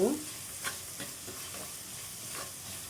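Onions with salt fry in a pan while a spoon stirs them, a soft steady sizzle with a few scraping strokes at intervals; no one speaks.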